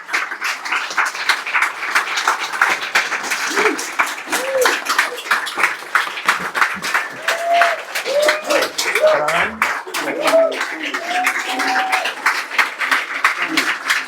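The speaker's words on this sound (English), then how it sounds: "give a round of applause for Catherine Conley and Fortis" Steady crowd applause fills the space, a dense patter of clapping that holds evenly throughout, with a few faint voices beneath.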